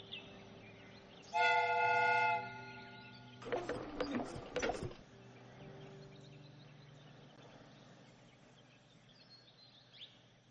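A loud, steady steam whistle blast with layered harmonic tones in the video game Sherlock Holmes: Crimes & Punishments, followed by a burst of clanking and hissing, then a low rumbling hum fading out.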